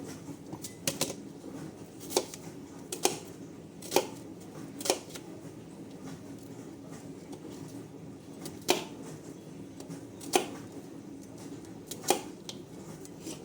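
Sharp knife dicing onion on a cutting board for pork lasagna, giving scattered crisp chops in irregular bursts, fairly close and alone with no talk.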